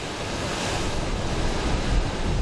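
Ocean waves surge and break on Garcey beach, Fuerteventura, where a wrecked ship lies in the surf, a loud continuous roar of surf mixed with wind buffeting the microphone, with no voices.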